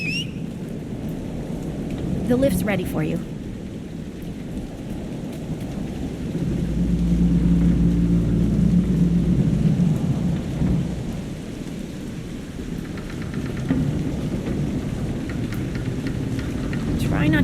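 Thunderstorm rain in the video game Dragon Age: Inquisition, a steady wash of rainfall with low rolling thunder swelling near the middle, while a voice speaks briefly early on.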